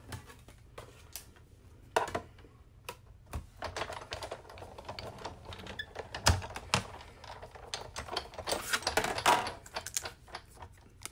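A die-cutting machine presses a paper image through a cutting die, giving off irregular clicks and clacks, some sharp and some soft, that cluster and thicken toward the end of the run.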